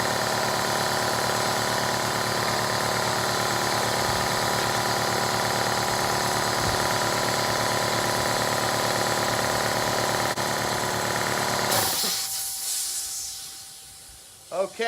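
A Husky 60 gallon air compressor runs with a steady, loud mechanical drone and hiss as it fills, then shuts off near the end, leaving a brief fading hiss and a couple of small clunks.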